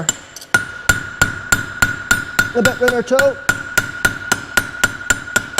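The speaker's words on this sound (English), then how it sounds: "You just need to hold it there and drive it with a hammer." A farrier drives a clip on a horseshoe with a hammer on an anvil: about fourteen sharp metallic strikes land in a steady, even rhythm, loud and close, and someone speaks briefly in the middle.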